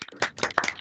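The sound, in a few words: audience clapping after unmuting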